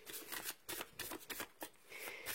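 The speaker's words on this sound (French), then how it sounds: "je fais le tirage de cette première carte avec l'oracle du Tao" Cards from a Tao oracle deck are handled and drawn, producing a run of soft, quick papery slides and flicks close to the microphone, quiet and uneven, with no speech.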